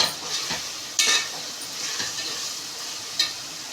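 Green chillies frying and sizzling in a pan while making mutton biryani, a steady soft hiss broken by a few brief louder crackles and stirring scrapes, close and moderately quiet, with no talking.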